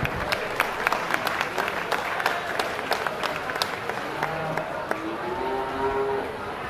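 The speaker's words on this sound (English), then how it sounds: "he definitely deserves a nice round of applause as they exit the ring" Crowd applause fills a livestock arena as kids lead steers out of the show ring at a youth steer show, with steady clapping, sharp louder claps, a few voices, and low cattle calls late in the clip.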